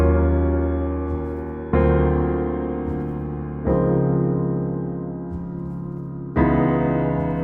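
Four sustained piano chords, a II-V-I progression with a minor 7, an altered 7 and the tonic, each struck and left to ring as it slowly decays, moving at an unhurried, even pace.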